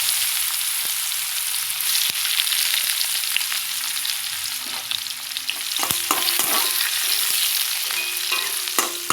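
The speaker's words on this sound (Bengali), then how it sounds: "একটু পেঁয়াজটা ভাজা ভাজা হোক" Sliced onion frying in hot oil over whole cumin seeds for a rohu fish curry with potato and green banana, a close, steady crackling sizzle broken by scraping stirs and clatters of a spoon against the pan.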